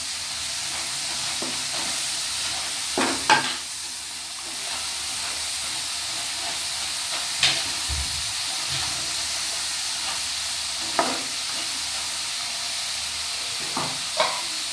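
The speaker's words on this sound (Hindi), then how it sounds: "ये इसको फ्राई होते हुए 1 मिनट 2 मिनट हो गए हैं।" Sliced potato chips fry in hot oil, a steady close sizzle and hiss that runs throughout, broken by occasional stirring clinks and scrapes.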